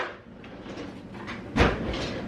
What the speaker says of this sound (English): I'll put this back in the drawer so it doesn't get wet.